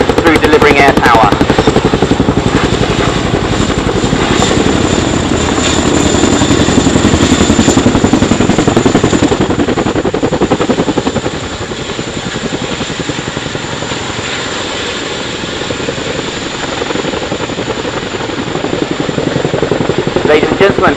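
An RAF Boeing Chinook twin-rotor helicopter performs a flying display at the Dunsfold Wings and Wheels airshow in 2018, giving a loud, sustained roar of rotors and engines that eases slightly partway through.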